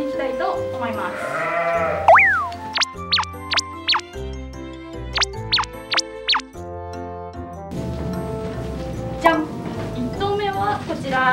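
Baby goats on a farm giving several short, high bleats in a run, close and clear, over a backing of light music with a voice speaking at times.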